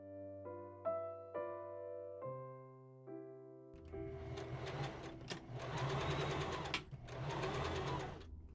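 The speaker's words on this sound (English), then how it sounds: "I change my machine to the 3-step zigzag and sew all along the waistline" A home sewing machine runs a 3-step zigzag stitch along a costume waistline, steady mechanical whirring in several close bursts with short pauses between, following a few low tonal hums at the start.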